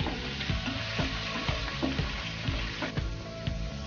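Soaked chana dal fries in hot oil for lemon rice, giving a steady close sizzle with regular stirring clinks against the pan roughly every half second.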